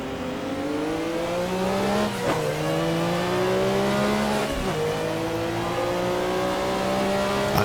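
Group C Porsche 962C race car at Norisring, its engine revving loud and steady through rising gear pulls with brief drops at each upshift, a sustained close-up drone from the cockpit.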